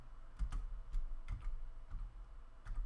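Typing on a computer keyboard, close and fairly quiet, with irregular clusters of soft key clicks and a few louder taps spaced through the quiet room.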